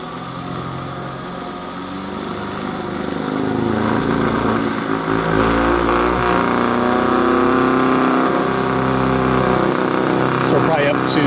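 A Dremel rotary tool spins a magnetic gear at high RPM, a steady whining hum that rises in pitch and loudness as it speeds up, with a voice talking over it.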